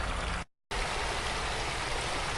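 A small creek in Oregon flows with a loud, continuous broadband rush of water heard up close, cut by a brief silent gap near the start before resuming steadily.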